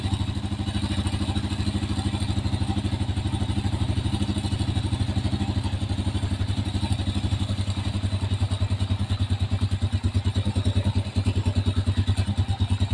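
A motorcycle engine with a smooth-running replaced piston idles close by, a steady, even rapid thrumming pulse that holds without revving.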